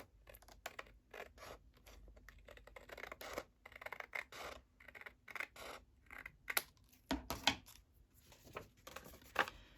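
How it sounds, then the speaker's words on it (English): Quiet, close snips and scratchy rustling as scissors cut through a stiff Little Golden Book cover, in short irregular bursts with pauses between. "I'm just going to cut it with my scissors and just kind of follow the edge"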